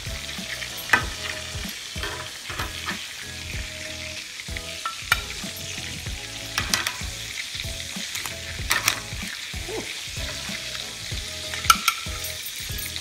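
Lamb chops cooking with garlic, rosemary and butter in a pan give off a steady, close sizzle, with scattered pops, crackles and the scrape of stirring or handling throughout.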